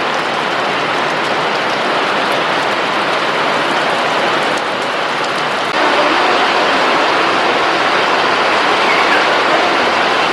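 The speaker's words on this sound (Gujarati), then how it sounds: "વરસાદ ચાલુ થઈ ગયો" Heavy rain falling in a village among fruit trees, a dense, continuous, loud patter that fills the whole stretch without any voices.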